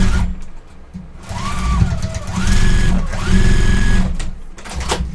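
A sewing machine runs nearby, stitching quilt pieces together in a loud, continuous mechanical whir with short pauses and changes in speed, its motor pitch rising and falling as it starts and stops.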